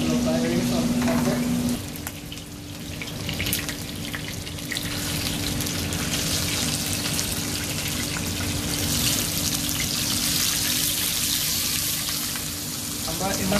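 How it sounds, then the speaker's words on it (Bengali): Sea bream fish sizzles and fries in oil in a pan, a steady close crackle that holds throughout. A brief tone sounds at the start, and no one speaks. "আমরা এটাকে 10 থেকে 15 মিনিট পর্যন্ত ভাজবো।"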